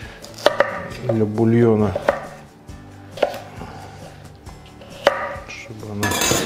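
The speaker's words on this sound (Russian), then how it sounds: "Морковку порежу" A knife chops carrots on a cutting board for fish soup, with several sharp, uneven knocks spread over a few seconds while someone talks.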